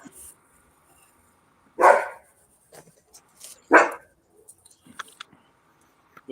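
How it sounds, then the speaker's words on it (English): A dog barks twice, two loud, close barks a couple of seconds apart, with faint shuffling noises between and after. "The dog's drowning you out."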